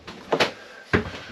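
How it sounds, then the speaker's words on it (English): A medicine cabinet with real glass doors in the bathroom of a 2026 Keystone Cougar Half-Ton 26RKE travel trailer opens and shuts. There are three short, close knocks and clacks, two in quick succession and then one more, with no talking. "Medicine cabinet. Actual glass doors."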